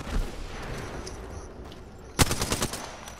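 Charge rifle fire in the Apex Legends video game: a sharp, loud blast erupts partway through after quieter ambient game noise, followed by a decaying rattle of echoes.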